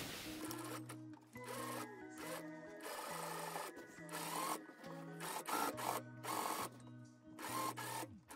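Sewing machine stitching fabric for a puffy skirt, its motor buzzing in repeated bursts separated by short pauses, loud and close.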